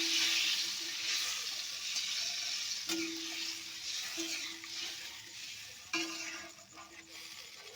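Fried potatoes and spices sizzling in a pan as water goes in for a snakehead fish curry, a quiet hissing sizzle with a few sharp clicks and knocks.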